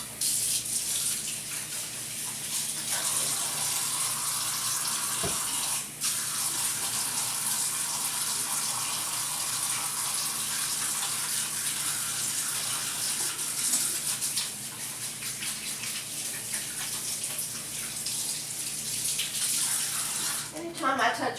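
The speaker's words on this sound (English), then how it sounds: "Get my hands washed." A kitchen tap runs in a steady loud gush while hands are washed under it during cooking, with brief splashes and a voice faintly in the background.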